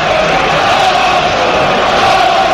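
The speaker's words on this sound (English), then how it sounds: "Here the crowd just exhorting this one last bit of effort from the Gunners." Football stadium crowd at Arsenal against FC Porto urging the Gunners on, a dense continuous roar of massed voices, loud and sustained throughout.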